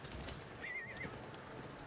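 A horse neighs in Diablo IV, a short, fairly faint whinny with a wavering pitch, rising briefly over a continuous background of game ambience.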